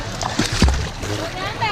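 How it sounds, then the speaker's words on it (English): A girl jumps into swimming-pool water during a floating lesson, making one sharp splash in the middle followed by sloshing water, with a voice talking around it. "hold her breath, and jump in the water"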